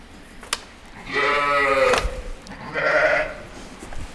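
Sönmez sheep bleating twice up close, a long wavering bleat followed after a short pause by a shorter second call, with no talking.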